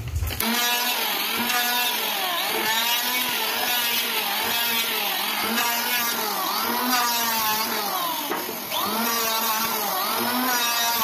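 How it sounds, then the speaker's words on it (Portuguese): A wood planer whines loudly and steadily, its pitch wavering up and down in repeated surges as material feeds through; close and continuous. "o Euris vai passar a plaina, que é essa máquina aqui"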